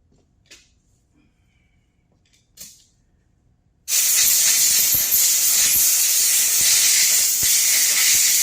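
Aerosol brake cleaner sprayed onto disassembled hydraulic cylinder parts: after a few faint taps, a loud, steady hiss starts abruptly and runs unbroken for several seconds, close to the mic.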